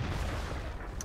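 A Black Prince tier 7 heavy tank in World of Tanks takes a hit from an HE cannon shell, heard as a heavy, dense, rumbling blast that fills the whole moment at close range.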